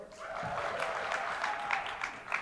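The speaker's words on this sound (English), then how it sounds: "let's give them a big round of applause" Audience applause at an arts-presenters conference opening plenary in New York, a steady sustained wash of many hands clapping filling the room, with scattered cheers rising near the end.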